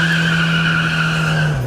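A small electric car gives a steady, loud tonal whine that holds, then drops in pitch near the end, with no one speaking.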